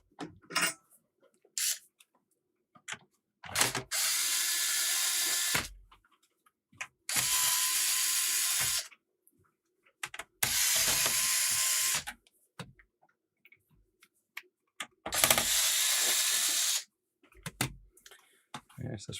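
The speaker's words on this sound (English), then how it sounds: "And unscrew time again." Bursts of whirring from a power screwdriver removing screws on a Sega SC-3000 personal computer, four separate runs of a second or two each, close and fairly loud, with clicks and handling noises between them.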